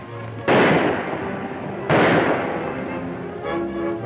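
Gunfire during a raid in an old western movie: two loud sharp blasts about a second and a half apart, each ringing out with a long echoing decay, followed by a fainter rumbling tail.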